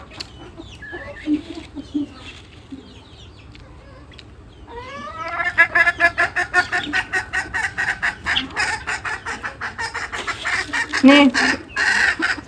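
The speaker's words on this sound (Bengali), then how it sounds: "আমি মুড়ি খাইতেছি, আমার মুরগিও মুড়ি খাইতেছে।" Chickens cluck and squabble while pecking at puffed rice, with a rapid, busy burst of clucking close by after a quieter start with scattered calls and a brief crow-like note.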